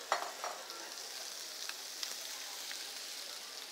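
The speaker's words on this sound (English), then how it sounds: "Oh, don't you like the sound of sizzle?" Shrimp sizzle in a hot pan, a steady, bright hiss with soft crackles and small pops, fairly quiet and heard close up with no talking.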